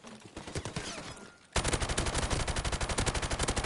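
Rapid M14 rifle fire in a Call of Duty game: softer shots at first, a brief lull, then a loud, relentless string of evenly spaced shots.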